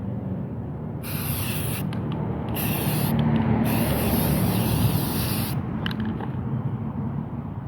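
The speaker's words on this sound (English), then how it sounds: "And you notice I'm spraying over the grass, so I don't really care about the overspray." Flex Seal sprays in close, hissing bursts onto a military surplus medium ALICE pack outdoors over grass, with several separate pulses of spray and faint rustling between them.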